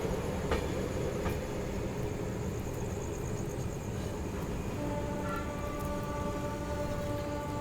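A train running on a parallel track, heard from inside a moving carriage as a steady, loud rumbling roar with faint rhythmic clatter and a brief high whine.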